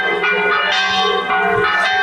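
Church bells ring on a Sunday morning in Italy, with loud, resonant overlapping tones that peal continuously and sound fairly close.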